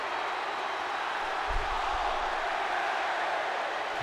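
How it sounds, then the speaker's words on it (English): A steady, dense crowd roar from a wrestling arena in the WWE 2K20 video game fills the clip at a constant level, with a brief low thump around the middle. "The crowd loves it."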